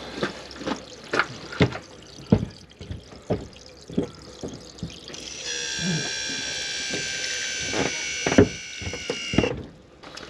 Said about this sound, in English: it's opened the solenoid and it's letting the water out